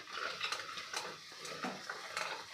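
A spoon scrapes and stirs turmeric, coriander powder, Kashmiri chili powder and kitchen king masala through hot oil in a pan, with soft gritty strokes and a light sizzle close by. No one talks.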